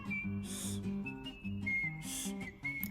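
A woman learning to whistle loudly without using her hands, while managing a jaw joint problem, produces a series of clear, steady whistled notes with brief breathy bursts between them.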